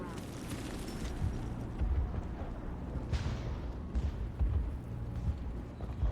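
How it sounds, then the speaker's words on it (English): Gunfire and explosions rumble through a Mass Effect battle against the Geth, a dense, continuous wash of low booms with a few sharper bursts standing out, steady and loud throughout. "How is a woman supposed to think with guns going off all around?"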